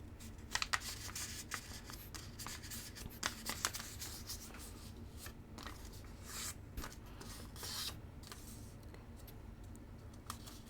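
Paper for an origami diamond ornament rustles and crinkles close by as it is folded and creased, with soft scraping swishes and a few sharper crackles over a quiet background.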